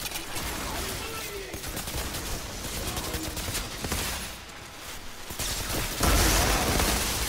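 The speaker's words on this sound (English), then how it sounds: "they got a dude with a giant shotgun too?" Heavy gunfire from the Outriders shooter rattles continuously, dense and loud, with a louder booming burst near the end and some voices mixed in under the shooting.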